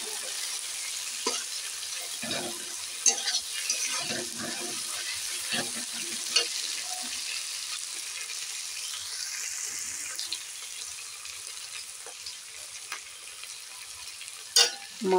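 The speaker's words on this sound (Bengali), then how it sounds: "জিরে বাটা রসুনটা আমি বেশ খানিকটা ভেজে নেব।" Garlic and cumin paste frying in a pan for Bengali chicken kosha, giving a steady soft sizzle with occasional stirring scrapes and clinks, fairly quiet and close, with no talking.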